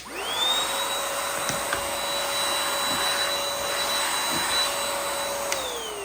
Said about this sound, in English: to start it up, we have our on and off switch right here